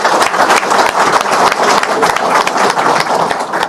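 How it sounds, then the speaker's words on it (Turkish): A crowd applauds the current mayor at a political rally, with loud, dense, sustained clapping that fills the whole stretch. "mevcut başkanımızı hepinize, hepinizin huzurunda bir alkışlatmak istiyorum"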